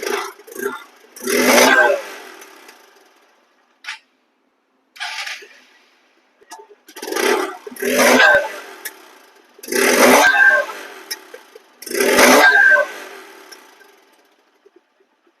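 A 2024 Hank One Disk motorcycle with about 1100 km on it is revved in repeated short bursts, each rising and falling, with quiet gaps between them, close and loud.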